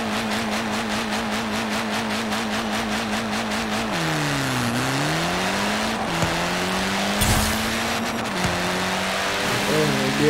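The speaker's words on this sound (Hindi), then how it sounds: "व्हील स्पिन देखते हैं कैसा मिलता है।" A Honda Civic Type R in a racing video game, driven on a Logitech G29 wheel, spins its wheels under a steady engine drone that dips and recovers in pitch, with a hiss of tire squeal throughout.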